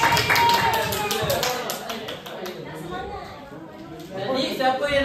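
Schoolchildren clap their hands in a primary Islamic education Quran class, a brief burst of scattered clapping mixed with classroom chatter and a teacher's voice, fading midway and rising again at the end.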